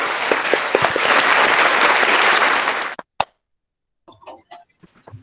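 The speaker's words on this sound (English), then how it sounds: "A round of applause, please." Sustained audience applause at a virtual policy forum, a dense steady wash of clapping lasting about three seconds before stopping abruptly, followed by a couple of isolated sounds and faint, brief noises.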